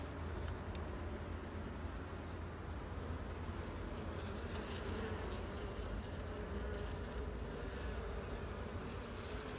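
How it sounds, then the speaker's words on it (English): Honey bees actively working a frame of new and old honeycomb during a hive inspection, a close, continuous buzzing drone with no voices. "They're actually actively working this frame."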